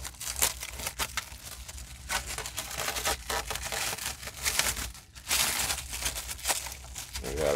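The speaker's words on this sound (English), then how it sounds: "Love that plastic coming off." Plastic wrapping crinkles and tears as it is pulled off a new Traxxas TRX4M RC truck, close and continuous with sharp rustling bursts throughout, no talking.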